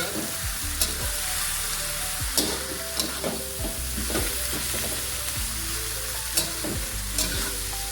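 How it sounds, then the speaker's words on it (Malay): Kidney bean flowers stir-fried in sambal belacan, with a steady loud sizzle and repeated scraping stirs of the spatula against the pan, close up and without talk. "Okey, kita tumis rata."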